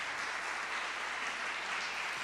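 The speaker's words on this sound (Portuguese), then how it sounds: "eu quero pedir um aplauso bem forte" Strong, sustained applause from a church congregation, a dense steady wash of clapping filling the whole stretch with no voices over it.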